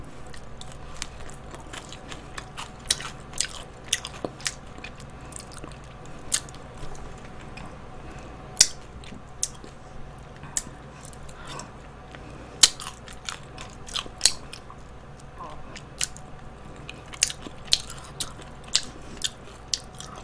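Crispy fried chicken bones are bitten and chewed at close range, giving steady sharp crunches and crackles, some louder snaps, repeated throughout against a quiet background.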